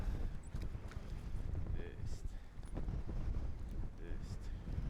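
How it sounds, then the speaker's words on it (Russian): Strong wind buffets the microphone at a riverbank during carp fishing, a loud, steady low rumble with gusting bursts throughout. "здесь ветер очень сильный."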